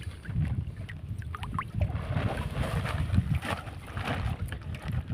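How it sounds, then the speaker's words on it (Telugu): A boat is pulled along a wire across a village fish pond, with continuous close water sloshing and rumbling knocks from the hull and wire, plus some wind noise on the microphone. "నేనేమో పడవ ఈ వైరు లాగుతూ ఉంటాను"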